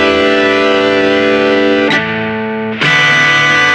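Electric guitar played through a Boss GP-10 poly hex fuzz distortion effect, sustaining thick saturated chords that are cut briefly twice and then ring again loudly, with no other sounds.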